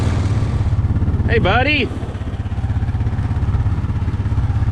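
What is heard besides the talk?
four-wheeler ATV engine running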